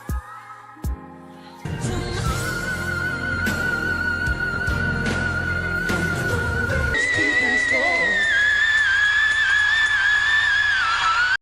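Someone singing in a whistle register, very high sustained pure notes that glide and hold, first faint and broken, then steady over backing music, with a brighter rising line near the end.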